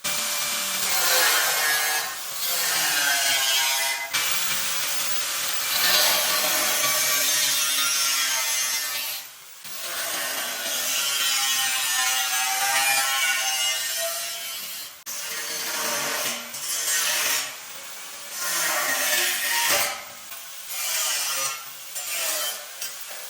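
Steel tubular pipe for a stair handrail being cut by hand, long repeated rasping saw strokes in a steady back-and-forth rhythm with short pauses, close and fairly loud, no talking.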